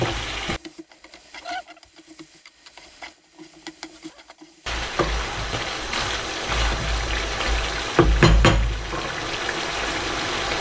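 Duck adobo with coconut milk stirred and frying in a pot, starting with quiet scrapes and taps, then a sudden continuous sizzle with stirring clatter and a louder burst of frying near the end.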